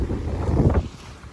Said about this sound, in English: We have, the wind is sporty.